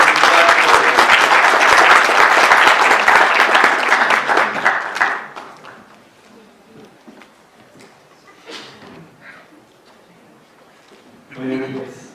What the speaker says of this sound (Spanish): Vamos a darles un aplauso a los tres